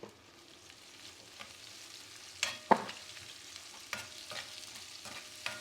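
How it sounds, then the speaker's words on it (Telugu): Chopped tomato goes into onions frying in a pan for egg fried rice: a low sizzle runs throughout, broken by a few sharp clattering stirs and splashes around the middle, with no talking. "ఆనియన్ కొంచెం ఫ్రై అయ్యాక టమాటా, మనం ముందుగా కట్ చేసుకున్న టమాటా వేసుకోండి"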